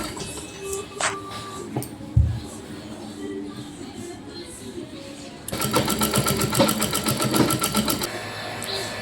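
Sewing machine stitching salwar fabric, quiet handling and rustling at first, then the machine runs in a fast, even mechanical rattle for the last few seconds, close and fairly loud.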